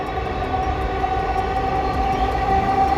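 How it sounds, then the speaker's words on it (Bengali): A metro rail train runs past on an elevated track over green village fields, a loud steady rumble of wheels with a sustained ringing whine, close and continuous. "এদিকে একটা মেট্রো রেল ছুটে এলো।"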